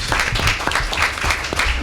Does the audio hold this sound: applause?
yes